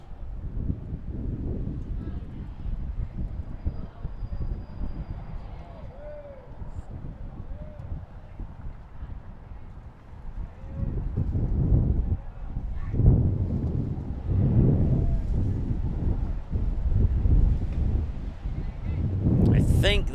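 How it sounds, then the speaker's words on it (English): Strong gusts of wind buffet a camera microphone at an outdoor baseball doubleheader, a continuous low rumbling roar that swells louder partway through, with scattered distant voices underneath. "The wind is very strong here."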